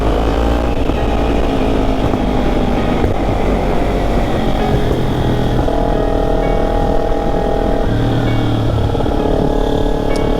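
Kawasaki Ninja 300 motorcycle engine heard while riding, a loud steady drone with shifting harmonic pitch and strong wind rush running continuously throughout.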